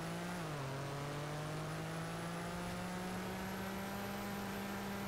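A monster truck engine in the video game Car Crushers 2 drones at high revs, its pitch dipping briefly at the start before holding steady and loud throughout, with no voices.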